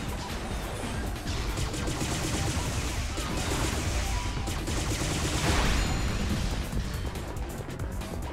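Gunfire in the action game P.N. 03, a loud, continuous barrage of shots and crashing impacts with no pause across several seconds.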